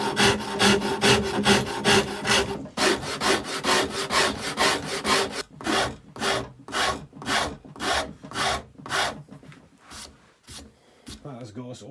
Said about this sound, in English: let's hit it with the older Shinto file